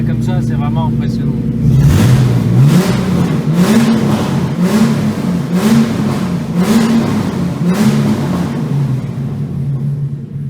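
A turbocharged BMW E46 328i engine revving repeatedly in loud, rising-and-falling bursts about once a second, with a steady idle drone underneath and close, prominent exhaust sound.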